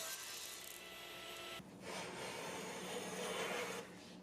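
Zebra wood is run through a planer, giving a steady close rasping, rushing cut with a brief dip in the middle before the pass continues, no voices.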